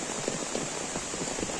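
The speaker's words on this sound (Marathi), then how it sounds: "पाऊस बघा" Steady rain falls in a village during a downpour, a dense, even patter of drops on surfaces that holds at a constant moderate level throughout, with no voices over it.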